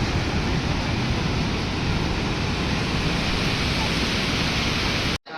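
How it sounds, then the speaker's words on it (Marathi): Sea waves at the beach near Ganpatipule temple: a dense, continuous roar of surf, loud and close, filling the whole clip without pause until it cuts off abruptly at the end. "आणि आहे इथं जवळच समुद्र. पाणी पण खूप आहे समुद्राला."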